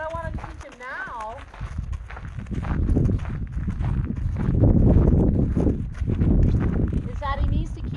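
Horse hooves clop along at a walking pace as a horse is led on a leadline during ground-manners training, with people talking intermittently and some wind noise underneath.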